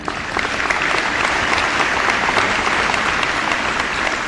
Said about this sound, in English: we should acknowledge them with a little applause as well